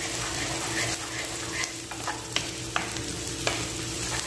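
Garlic and ginger fry in a pan with a steady, dense sizzle, stirred now and then with a few sharp clicks and scrapes for a dry squid adobo.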